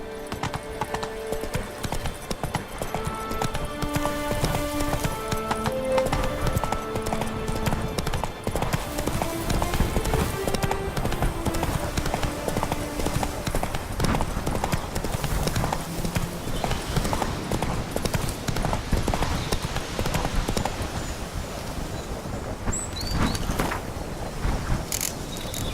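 Horse hooves galloping in The Witcher 3: Blood and Wine, a dense, continuous clip-clop of hoofbeats with creaking tack mixed with game music.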